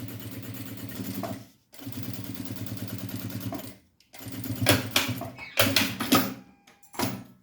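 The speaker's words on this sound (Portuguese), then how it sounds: "vou fazer uma costura de segurança em toda a volta, para deixar o forro bem firminho na parte de trás" A sewing machine runs a security seam around the edge of a bag lining, buzzing in several close bursts of rapid stitching separated by short silent pauses, no voices.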